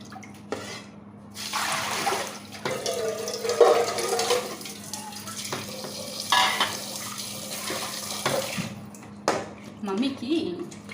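Mutton pieces washed under running tap water in a home kitchen, with a steady splashing flow and occasional clatter of the pieces, while a voice talks over it.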